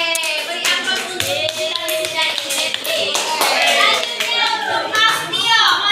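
Classroom applause at a junior high school in Kupang, with many hands clapping steadily and densely for several seconds, a few children's voices mixed in.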